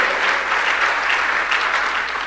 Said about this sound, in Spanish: Si le va a dar un aplauso al Señor, déselo bien